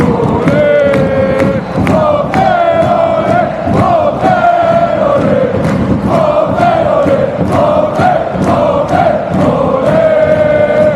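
A large football crowd at a VfL Bochum soccer match in Germany, with the home side leading 3-0, chants and cheers loudly and continuously in rhythmic, sustained waves of massed voices.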